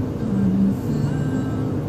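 A dump truck drives along with a steady low engine rumble and whir that swells slightly and then settles, sounding fairly close and alone.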